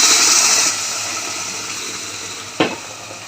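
Leafy greens drop into a hot pan for a Telugu home-style dish, giving a steady broad sizzle that eases after the first moment, with a brief sharp clatter near the end.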